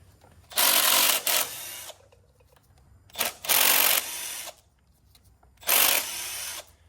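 A power tool works on the timing chain sprocket of a Gen 3 LS engine, whirring in three short loud bursts of about a second each with quiet gaps between.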